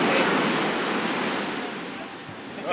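Surf washing in along Bondi Beach, a steady broadband roar of breaking waves that stays loud and continuous throughout, with faint voices briefly underneath.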